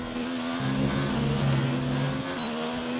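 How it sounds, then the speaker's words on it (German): A Formula 1 car in the racing game F1 2019 holds a high, sustained engine whine, its pitch wavering slightly as it revs, loud and steady throughout. "Motor hochdrehen und gucken"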